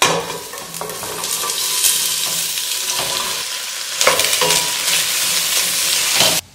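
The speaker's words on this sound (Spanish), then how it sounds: "Vamos a sofreír la cebolla." Chopped onion fries in a spoonful of oil in a cooking pot, giving a steady close hiss and sizzle with stirring scrapes and a brief louder crackle toward the end.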